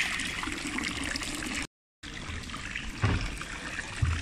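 Mineral spring water in Bad Cannstatt, Germany, flows steadily in a continuous bright trickling rush, close by, with a brief gap of silence partway through.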